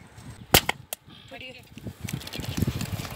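A bottle bursting during a magic trick gives a sharp, loud pop followed by a second, smaller crack, and excited voices chatter right after.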